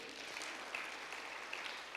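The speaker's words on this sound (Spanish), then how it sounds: "Den un aplauso a Él por ese amor" A church congregation applauds during a sermon, a faint, continuous patter of clapping heard from a distance with no voices over it.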